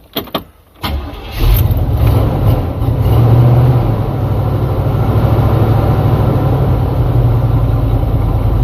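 A stubborn carbureted car engine with an inactive choke cranks briefly, then catches and settles into a steady, loud idle that runs on alone.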